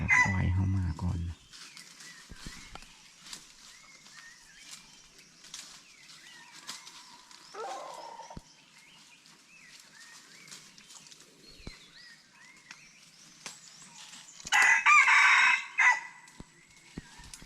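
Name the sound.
chickens and rooster crowing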